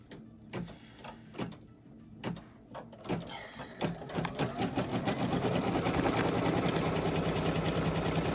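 A sewing machine stitching fabric down on a pin cushion project: a few separate mechanical thumps, then a steady fast whirring run of stitches that builds and continues, close and clear.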